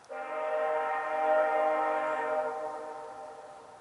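VIA Rail train 84 sounds its multi-tone horn in one long sustained blast as it passes Forest Road on a November day, loud and steady for about two and a half seconds, then rumbling away with no one speaking.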